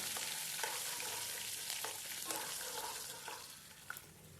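Ginger, garlic and chopped green chili fry in hot oil for a potato curry, giving a steady, soft crackling sizzle that runs without pause and with no voices.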